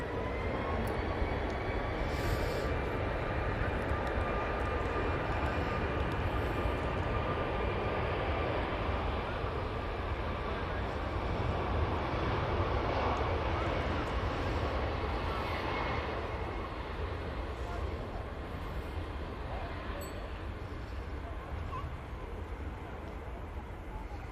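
A jet airliner bound for Ibiza takes off at Manchester Airport, its engines producing a steady, broad roar that holds at a constant level from a moderate distance throughout.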